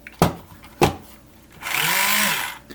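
A Tamiya power tool whirs up on a model ship build, a sustained motor buzz of about a second after two sharp knocks, then winding down.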